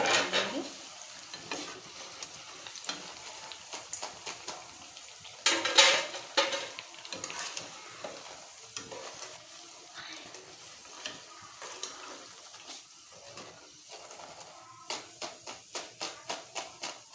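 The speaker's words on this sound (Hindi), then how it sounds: "अब मैं इस तरह से सारे पकोड़े तल लूँगी।" Green chili pakoras frying in hot oil, a soft steady sizzle broken by stirring scrapes and clinks of a utensil against the pan, with a quick run of taps near the end.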